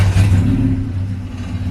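A car engine in a home garage catches and turns over, a brief loud burst of mid-range engine rumble that settles into a steady running drone, no voices.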